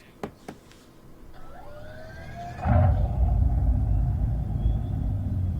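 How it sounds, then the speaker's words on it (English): Fretsonic chambered exhaust speaker system on a Dodge Charger Daytona, subwoofers and mid-range speakers driven by a 600-watt amplifier through chambers under the car, swelling into a loud, deep, sustained engine-like rumble after a quieter whirring build. "that is called a Fretsonic chambered exhaust, and it's a couple of subwoofers and mid-range speakers with a 600-watt amplifier which actually push noise through some chambers underneath the car"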